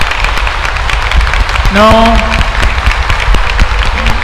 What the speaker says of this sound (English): Okay, one second, all together, give a loud clap.